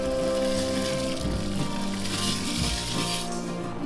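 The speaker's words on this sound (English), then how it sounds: "Now that that's come to a boil, I'm going to add in 1 cup of orzo pasta." One cup of dry orzo pasta pours into a pot of boiling water, giving a steady bubbling, sizzling hiss and a soft patter of grains, close and continuous with no talking.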